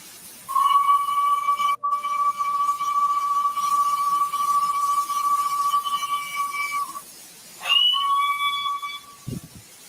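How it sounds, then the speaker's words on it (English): A clear, pure-toned whistle gives a long shrill blast with a brief dropout near its start, followed after a short pause by a second, shorter blast, loud and close. "And whistle 7 sounds like this."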